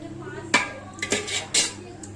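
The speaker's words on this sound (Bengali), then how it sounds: "ভাতগুলো এবারে চারিদিকে সব ছড়িয়ে দিচ্ছি।" Cooked rice being spread around inside a beef biryani pot, heard as a few quick metal scrapes and clinks of a spoon against the pot, close and brief, with no talk.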